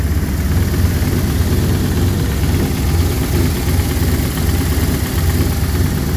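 A Nissan VK56 V8 with a big cam idles steadily and loud up close, a continuous low rumble with a faint repetitive tick buried in the engine noise.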